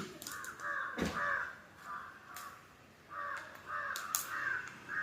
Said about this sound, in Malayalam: കാക്കകളുടെ ശബ്ദം കേൾക്കുന്നുണ്ട് ഞങ്ങൾ